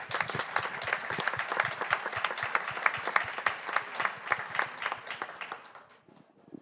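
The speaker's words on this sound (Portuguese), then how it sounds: "Palmas." An audience applauds at a panel on culture at a Brazilian philanthropy congress, a dense stream of individual claps held at even strength for about five seconds, then quickly fading to silence.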